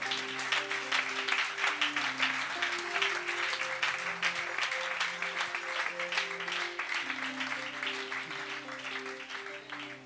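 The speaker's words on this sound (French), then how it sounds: "On acclame le Seigneur." A church congregation claps in steady rhythm for about ten seconds, dense and close, while sustained musical tones play underneath.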